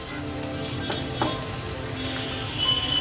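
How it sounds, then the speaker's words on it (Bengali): Sliced onions for beresta fry in oil over high heat, a loud, dense, unbroken sizzle close by, with a few faint stirring knocks and no voices. "বেরেস্তা ভাজার সময় আপনারা চুলার তাপটা একটু হাই হিটে রেখেই ভাজবেন"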